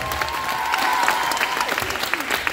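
A theatre audience in Nalchik claps warmly after a Chekhov play at the theatre's jubilee, a short burst of dense, even applause with faint voices underneath.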